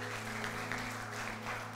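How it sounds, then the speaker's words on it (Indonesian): A church congregation applauds during a sermon, a faint, steady patter of clapping with a low hum beneath it throughout. "Kasih tepuk tangan buat Tuhan kita"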